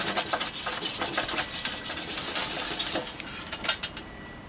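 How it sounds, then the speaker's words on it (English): Fiber optic connector rubbed back and forth on sandpaper during polishing, giving a close, steady rhythmic rasping with short scratchy strokes that sharpen near the end. "Then you pass the fiber on the sandpaper to polish."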